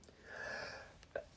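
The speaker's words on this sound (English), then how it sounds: "I gotta sneeze." A single person sneezes indoors at a live trading card shop, a short wheezy intake building over half a second, then a brief pause before sharper sniffing bursts close to the mic.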